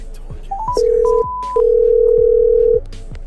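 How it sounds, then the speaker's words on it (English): A telephone line: a few quick dialing beeps, then a steady dial tone that cuts out briefly and resumes, loud and clear. "Hold on a second. I gotta call Anna."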